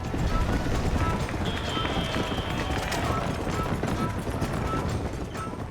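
A horse-drawn cart racing in the video game Red Dead Redemption: steady clip-clop of hooves and rattling wheels under a constant rushing rumble.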